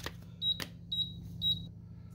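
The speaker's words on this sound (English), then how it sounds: "Flashing, three beeps means out of paper." Logia label printer out of paper sounds three short, clear electronic beeps evenly spaced about half a second apart, close and fairly quiet over a low hum, with a couple of faint clicks between them.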